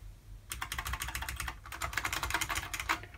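Rapid, steady typing on the keyboard of a 1987 IBM 6746 electronic typewriter, a mechanical board akin to the IBM Model F, with dense clattering keystrokes close up and no talking.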